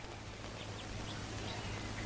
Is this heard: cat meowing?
no